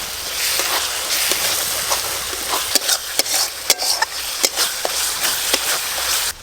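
Spice paste with Kashmiri red chili powder is stir-fried in a pan for a pointal and shrimp dish, steady close sizzling punctuated by a series of sharp scraping stirs, with no talking.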